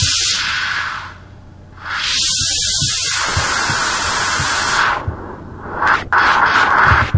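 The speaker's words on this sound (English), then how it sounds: "now you just sound like just a lot of static" Synthesized static noise in FL Studio, shaped as a wind effect: loud hissing bursts that sweep and shift as EQ frequencies are automated, with a short dip and crackling textures between sustained washes of noise.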